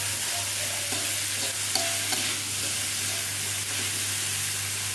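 Green beans stir-fry with tofu cooking in a pan, a steady hissing sizzle with a low hum underneath and occasional soft clinks of stirring, close and unbroken by speech.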